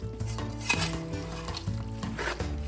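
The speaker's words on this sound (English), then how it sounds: "I'm gonna mix this up with the beans" Chili being stirred together with beans in a pot, a steady close scraping and stirring over a constant sizzle, with occasional louder clatters.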